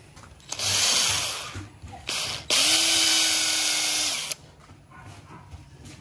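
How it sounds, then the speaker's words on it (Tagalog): Electric drill boring a pilot hole into hard wood while installing a door lock; two loud whining bursts, the second longer and steadier, with a short pause between, close by and alone. "binarinahan ko to dahil matigas yung kahoy"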